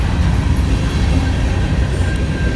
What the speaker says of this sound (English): They got 3 locomotives on it